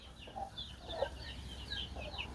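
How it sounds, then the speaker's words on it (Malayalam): Native village chickens cluck softly in a rural spot near Coimbatore, several short, faint calls scattered over a low outdoor background. "നാട്ടുകോഴിയാണെന്ന് തോന്നുന്നുണ്ട്."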